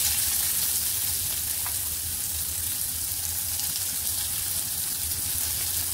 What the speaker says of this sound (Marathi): कांदा टाकूया